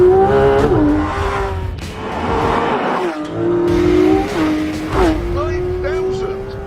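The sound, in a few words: Porsche 911 4-litre flat-six engine revving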